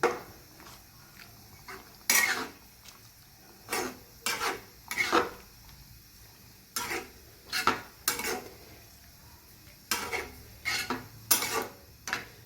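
A vegetable dish in a pot is stirred after coriander is tossed in, giving a series of sharp metal spoon scrapes and clinks against the pot at an irregular pace, close and clear, with no talking.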